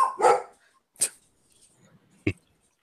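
Dogs bark nearby in three sharp, separate bursts with quiet gaps between them; the first is the loudest.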